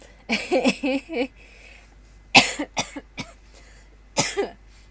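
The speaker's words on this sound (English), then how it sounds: "laughing made me cough" Several coughs in quick succession, close and loud, first a clustered burst, then a few isolated coughs after a pause.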